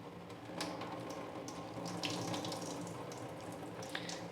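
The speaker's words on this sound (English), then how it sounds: "I'm just going to rinse it through with my fertilizer regimen" Tap water running from a sink faucet, rinsing fertilizer through a potted alocasia, a steady soft splashing stream heard close and alone throughout.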